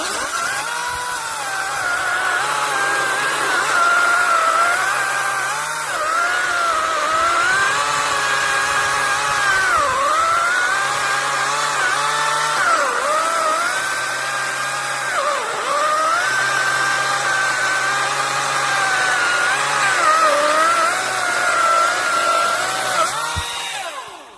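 Greenworks DigiPro 40-volt lithium-ion battery chainsaw cutting through a tree, a loud continuous electric whine that dips and rises in pitch as the chain bogs in the wood, close and uninterrupted.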